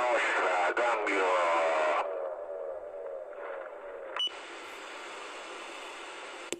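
An Italian CB radio channel carries a noisy transmission with a voice over the static, then the carrier drops and a sharp short beep sounds near the end as the transmission closes.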